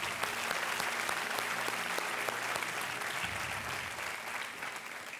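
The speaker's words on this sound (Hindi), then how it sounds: "ताली भी बजाते रहते हैं" Studio audience applauding on the Indian TV quiz show Kaun Banega Crorepati, steady dense clapping filling the whole stretch, loud and close, with no talk over it.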